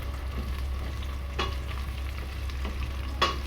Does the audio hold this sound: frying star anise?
yes